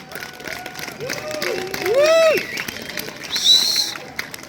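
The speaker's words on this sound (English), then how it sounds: "Another big applause for this year's jury" Applause and crowd noise rise from the audience at the Grossmann festival closing ceremony as the jury is honoured, swelling mid-way with whistles and cheers, while voices murmur throughout.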